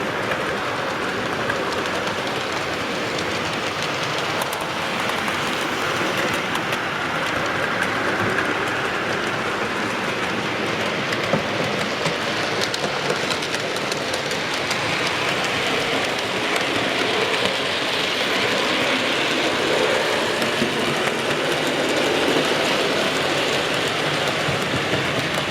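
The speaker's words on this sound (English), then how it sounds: "It's nice to catch these locomotives in action." Model railway locomotives run on a loft layout, producing a continuous, even whirring rumble of wheels and motors that holds at a steady level for the whole stretch.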